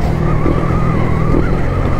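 Yamaha MT-15 motorcycle engine droning steadily close by during a downshift, a continuous revving tone with a brief pitch shift midway, loud and without talk.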